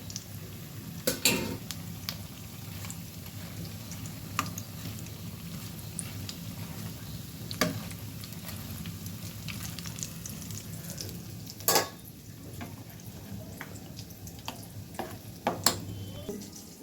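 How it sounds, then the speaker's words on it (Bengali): Egg chops frying in a pan of oil give a steady, close sizzle throughout, with a few sharp clinks and scrapes from a utensil turning or lifting them. No one speaks. "ডিম চপ ভাজতেছি হয়ে গেছে যেটা যেটা উঠাই ফেলতেছি"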